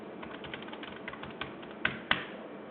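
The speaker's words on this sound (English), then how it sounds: "type in the password" Password being typed on a computer keyboard, a quick run of light key clicks at close range with two sharper, louder taps near the end, and no talking.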